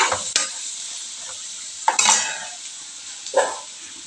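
Ginger and ground spices fry in oil with a steady sizzle, broken by a few sharp scraping stirs of a utensil against the pan, each stir flaring briefly louder before settling back.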